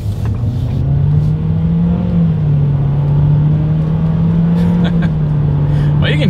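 A 2021 Nissan Versa engine drones steadily as the small car accelerates up to speed on a straightaway, a continuous near hum with a slight rise in pitch, no speech over it.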